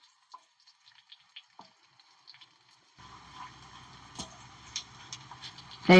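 Garlic and dried red chillies fry in hot oil for a Telugu gongura pickle: after a few faint ticks, a steady sizzle starts midway and holds, with small spatters and a stir or two over it.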